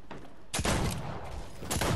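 Gunfire in the video game Fortnite, heard as two loud, dense bursts of rapid shots separated by a brief quieter gap.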